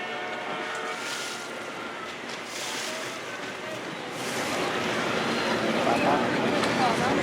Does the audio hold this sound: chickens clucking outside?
no